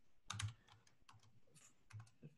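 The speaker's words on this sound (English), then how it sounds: "So let me type." Rapid, uneven keystrokes on a computer keyboard, clattering in short bursts close by with brief pauses between them, no voices.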